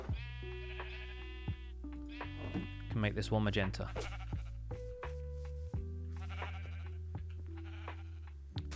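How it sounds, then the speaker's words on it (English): Minecraft sheep, dyed pink, give several clear, close bleats in a row while a person talks over them. "Yes, I have 2 pink sheep."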